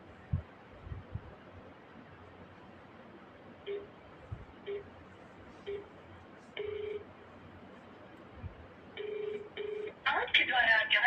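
A mobile phone dials the number of a shutter and door siren alarm machine to place a missed call: short, evenly spaced keypad tones, then longer paired call tones rising into a louder ringing burst at the end.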